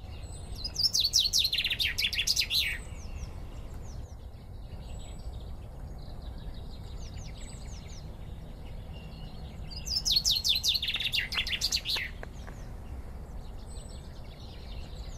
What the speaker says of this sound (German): Der Baumfalke füttert seine fast flüggen Jungen mit Vögeln und gerne auch mit Libellen.